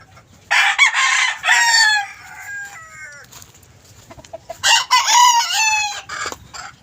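Golden Boy gamecock roosters crowing at a backyard poultry farm, two loud, close crows a few seconds apart with a quieter crow between them and no talk over them.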